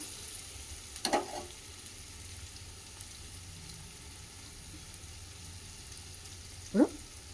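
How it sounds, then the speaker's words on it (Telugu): Onions frying in oil in a home kitchen pan for potato curry: a faint, steady low sizzle with two brief louder stirring scrapes near the start and end, no voices. "ఉల్లిపాయ ఉల్లిపాయ కూడా వేగిపోయింది నూనెలా"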